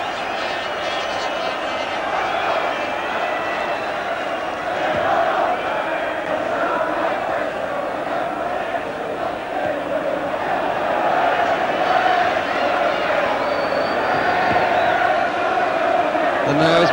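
A football crowd roars and applauds a goalkeeper's simple catch at Derby County v Plymouth Argyle in the 1983-84 FA Cup quarter-final, a dense, steady wall of stadium noise that swells slightly toward the end.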